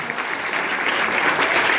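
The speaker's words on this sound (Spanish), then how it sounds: "si usted va a aplaudir, aplauda fuerte esta mañana." A crowd applauds steadily, dense clapping filling the room at a consistent loudness throughout.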